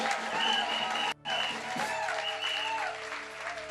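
A church audience breaks into loud, sustained applause with cheering voices, and the clapping is cut off by a brief dropout partway through.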